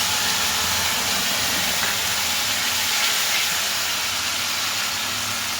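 A bay leaf dropped into hot oil for a Bengali coconut-milk bata fish curry, giving a steady, even sizzling hiss that holds at a constant level throughout with no talking.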